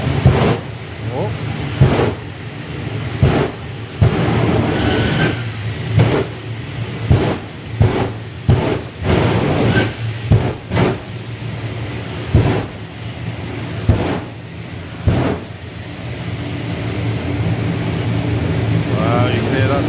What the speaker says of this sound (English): you can hear that turbine really ramps up now